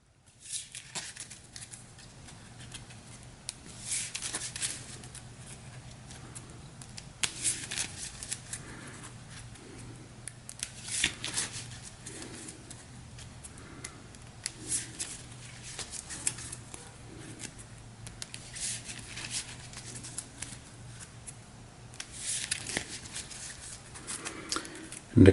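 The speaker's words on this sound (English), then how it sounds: "so we'll give this a quick shuffle." A tarot deck being shuffled by hand, soft papery riffles and flicks repeating in irregular bursts over a quiet background hum, close and fairly faint, with no talking.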